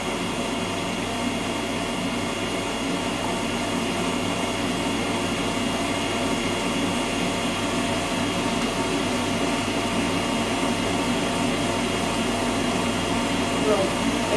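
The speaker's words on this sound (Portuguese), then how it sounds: "E aqui eu vou misturando até o açúcar dissolver toda." Electric mixer whirring steadily at close range as sugar dissolves into a pastry preparation, a continuous even motor drone with no break throughout.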